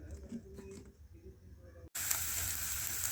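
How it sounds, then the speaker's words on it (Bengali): Carrots and beans drop into hot oil in a pan for a spicy pasta: a quiet stretch of light clatter gives way to a sudden, loud, steady sizzle that continues to the end. "গাজর আর বিনসগুলো আমি আগে ভালো করে ভেজে নিচ্ছি"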